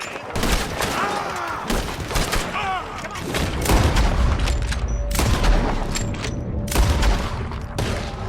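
Dense, loud volleys of gunfire fill a Red Dead Redemption 2 gunfight throughout, with overlapping shots and booms.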